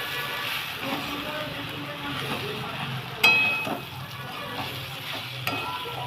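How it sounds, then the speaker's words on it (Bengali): Soybean chunks sizzle steadily in a pan with ginger, garlic and onion, with a couple of sharp spoon clinks against the pan during stirring and a voice talking faintly over the frying. "আদা, রসুন, পেঁয়াজের সঙ্গে ভালো করে সয়াবিনটাকে কষাবো।"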